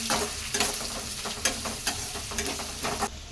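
Onion and curry leaves fry in oil with mustard seeds and chana dal, a close, loud sizzle broken by repeated rhythmic stirring scrapes from a spatula.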